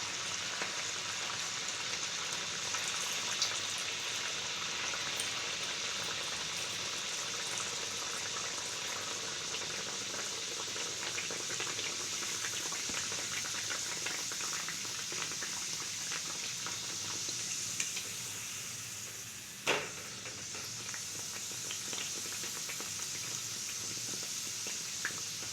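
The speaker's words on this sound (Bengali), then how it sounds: "আবার একটা ভেজে নিয়ে আমি দেখাচ্ছি। আর গ্যাসের ফ্লেমটাকে হাই রাখতে হবে।" Dal puri fries in hot oil over a high gas flame, a steady close sizzling hiss with fine crackles that holds evenly throughout, briefly disturbed by a single sharp pop.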